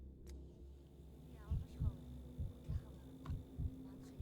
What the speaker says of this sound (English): Heartbeat seems fairly normal.